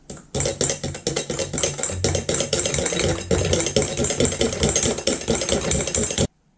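An electric mixer whirs and rattles through dough with oil and baking powder in a bowl, running steadily and close before cutting off abruptly near the end.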